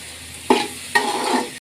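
Avarekalu upma being mixed in a pan, two scraping stirs with a soft sizzle, close and clear, ending abruptly.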